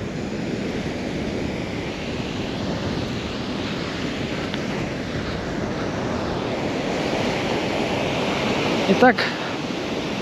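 Sea surf rolling onto a wide beach in Lao, a steady broad roar of waves with wind noise buffeting the microphone throughout; someone speaks briefly near the start.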